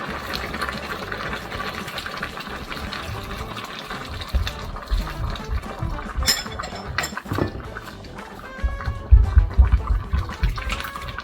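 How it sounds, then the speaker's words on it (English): Water pours and splashes into a cooking pot for Atama soup, a steady liquid rush that grows louder and more gurgling toward the end. "Going to add a little bit of water."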